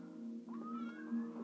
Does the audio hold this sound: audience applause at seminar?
no